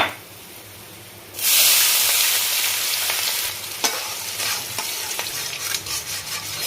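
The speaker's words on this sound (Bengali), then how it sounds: "পেঁয়াজটা একটু গোল্ডেন কালার করে ভাজবো" Onion frying in oil in a pan, a loud hiss bursting in after a quiet start, then a steady sizzle with scraping stirs and clinks close by.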